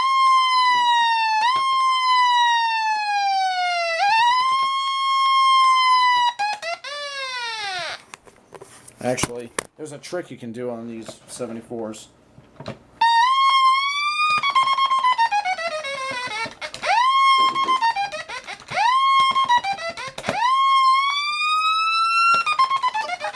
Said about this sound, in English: kind of adds that comedic effect as well from the old-fashioned siren